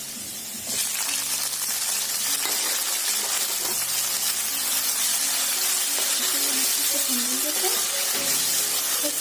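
Tomatoes hitting golden fried onions in a pan for cabbage sabzi set off a sudden loud, hissing sizzle that holds steady and close, with a voice faintly audible underneath.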